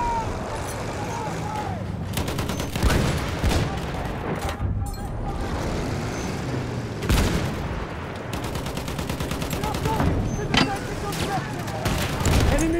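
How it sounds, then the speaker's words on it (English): Dense machine gun fire mixed with explosions and shouting during a Battlefield 1 operation on the River Somme, continuous rattling bursts and booms throughout, with a voice calling out over the din. "Machine gun!"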